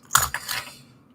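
Keys on a set of key rings being handled, giving a few quick, close metallic clinks and jingles that fade out within about a second.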